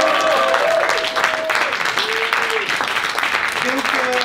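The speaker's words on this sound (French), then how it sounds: "on vous applaudit une dernière fois" An audience applauds after a teen theatre scene, dense clapping mixed with crowd noise and some voices calling out over it.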